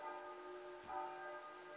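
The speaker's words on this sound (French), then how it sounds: "Par contre les cloches, vous allez toutes les entendre, je suis désolée" Church bells ringing faintly in the distance, sustained tones that rise and fade, with no voices.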